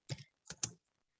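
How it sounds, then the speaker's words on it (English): A few keystrokes on a computer keyboard, close and quiet: two quick clusters of clicks followed by a faint final tap, with no voices. "I'm just typing."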